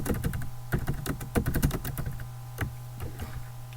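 Someone types a short blog post on a computer keyboard. Rapid, close key clicks come in irregular bursts, dense at first and then sparser, over a faint steady hum, with no talk.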